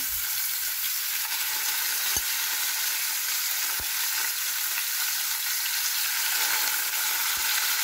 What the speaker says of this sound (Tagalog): Nagprito po tayo dito ng ulo.